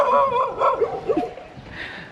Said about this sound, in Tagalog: May aso pala sa taas oh.